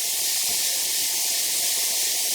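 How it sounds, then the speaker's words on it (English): Steady broadband hiss of steam escaping a pressure canner vent while canning red kidney beans, loud and continuous with no pauses or voices. "that steam coming out of there will give you a burn"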